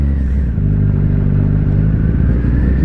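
V-twin motorcycle engine running steadily behind the rider, a loud, continuous low throbbing rumble with a slight clatter, holding an even idle-to-cruise pitch throughout with no talk.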